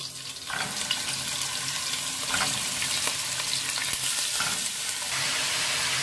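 Meat added to onion sauce in a pan, sizzling with a continuous close frying hiss and occasional soft stirring scrapes, no talking.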